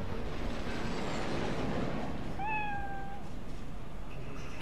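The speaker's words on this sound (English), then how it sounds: "The cat is angry," An angry cat meows in the Cyberpunk 2077 video game, a single drawn-out, falling meow ringing clearly over a low, steady background hum.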